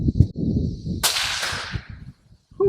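Single sudden crack from a Ruger Predator Generation II .223 Rem rifle outdoors in western North Carolina, loud against steady wind rumble from an approaching snowstorm, then decaying over about a second into quieter gusts.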